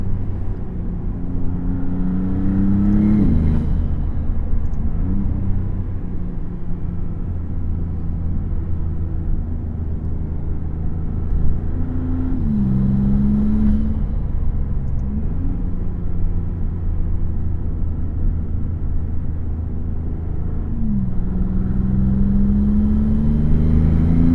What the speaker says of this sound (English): Lots of great sounds coming from that 3-liter V6.